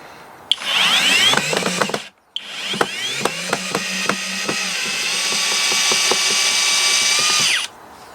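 A HoTo power drill whirs up loudly close by, stops briefly, then restarts with a steady high whine and repeated ratcheting clicks before winding down.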